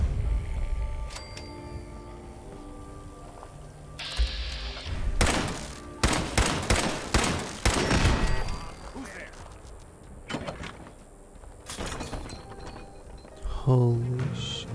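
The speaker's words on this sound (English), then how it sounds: "They have guns! Run!" Gunfire in the video game Fallout 4 comes as a cluster of sharp, loud shots and thuds grouped in the middle of the stretch, with scattered single impacts later, mixed with game effects and a player talking over it.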